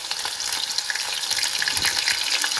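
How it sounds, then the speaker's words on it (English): Chicken pieces frying in hot oil for chilli chicken, a steady dense sizzle and crackle throughout, close and fairly loud with no talking. "we continue frying it for some time"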